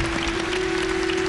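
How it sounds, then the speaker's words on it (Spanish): An audience applauds after a political speech, a brief, continuous spread of clapping from a crowd, with a steady tone humming beneath it. "Algunos aplaudieron de corazón, otros por protocolo"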